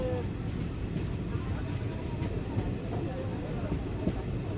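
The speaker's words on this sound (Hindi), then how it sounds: "ट्रेन की स्पीड स्लो हो चुकी है और हम लोग कुछ ही देर में पहुंच जाएंगे दुमका रेलवे स्टेशन।" The Ranchi Godda Intercity Express slows on its approach to Dumka railway station, a steady low rumble of wheels and carriage under faint clatter throughout, heard from on board.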